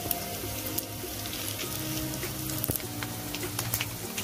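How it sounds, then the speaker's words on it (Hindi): Cumin, green chili and mustard seeds sizzle in hot oil as a tempering, a steady close frying hiss with small crackles and pops scattered throughout. "तेल मेरा अच्छी तरह से गर्म हो गया, अब इसमें डाल रही हूँ जीरा, हरा मिर्च और थोड़ा सा सरसों"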